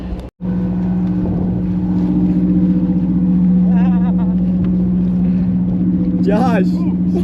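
A 70-foot luxury yacht runs under way, its engines giving a loud, steady drone with wind buffeting the microphone, while voices come and go briefly over the engine noise.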